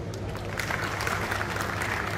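Audience applauding at the Safecon 20 event, a talk on LEED certification, with dense steady clapping and crowd noise held evenly across the moment, no clear voice on top.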